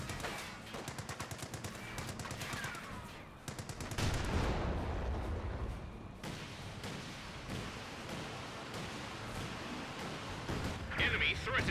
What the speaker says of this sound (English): Here comes a Light barrage.